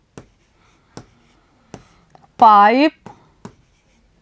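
Chalk or pen tapping and scratching out words on a board during a class lesson, sharp regular strokes about every half second, with a brief spoken word in the middle.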